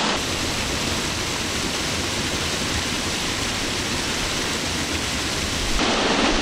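A waterfall rushes in a steady, loud, dense roar of falling water, continuous and close throughout with no voices.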